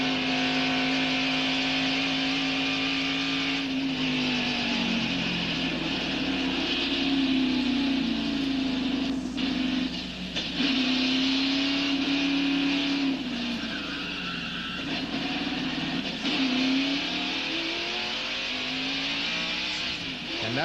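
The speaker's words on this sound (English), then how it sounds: "Now, a replay of the crash from Dale Jarrett's in-car camera." In-car view of a NASCAR race car during a 1991 Miller Genuine Draft 500 crash: a loud, sustained engine roar rising and falling in pitch, with tire squeal and skidding mixed in across the replay.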